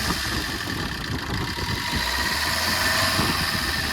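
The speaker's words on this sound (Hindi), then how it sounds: "मैं आपको इंजन साउंड सुनाता हूँ, आप इंजन साउंड सुनो।" A Maruti Suzuki 1.3 DDiS diesel car engine runs at a steady idle nearby, its clattering, vibrating diesel rumble continuous and fairly loud throughout.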